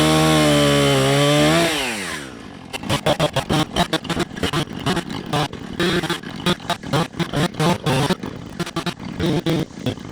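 A chainsaw roars at full throttle, winds down, and then cuts into a walnut tree with rapid choppy bursts of engine and chain noise, loud and close.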